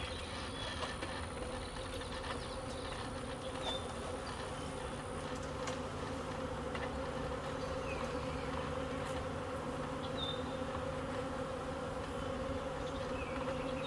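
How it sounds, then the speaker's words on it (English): A honeybee swarm hums in a continuous, dense drone at a hive entrance outdoors, with steady even loudness and occasional single bees zipping past close by. "The bees at the hive entrance down there seem to be pretty content"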